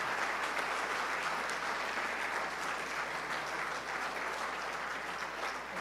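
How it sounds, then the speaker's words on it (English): Sustained applause from an audience at an evening event, steady and full throughout, with no pauses or voices breaking through. "give them anonymously a round of applause"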